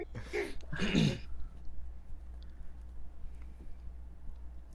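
A couple of short, harsh coughs close by in the first second or so, followed by quiet background hum.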